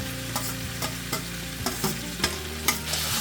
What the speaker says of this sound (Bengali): এবার ইঁচুরটা একটু নেড়ে চেড়ে নেব এবার চিংড়িগুলো দিয়ে দিলাম